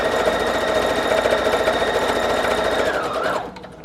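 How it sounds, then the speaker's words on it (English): A sewing machine running a steady straight stitch as lace is sewn onto a doily, a continuous close mechanical whir with fast rhythmic ticking that slows and stops near the end. "I'm going to first go ahead and sew the lace across onto just the doily"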